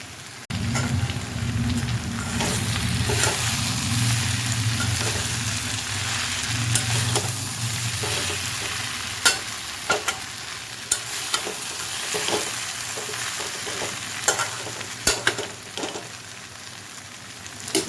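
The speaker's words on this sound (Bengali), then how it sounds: "এবার এর মধ্যে ভেজে রাখা এই মাছগুলো আমি দিয়ে দেব।" Pre-fried boroli fish go into a hot pan and are stirred, with a steady close sizzle of frying oil and repeated scraping and clinking of a spatula against the pan, no talk.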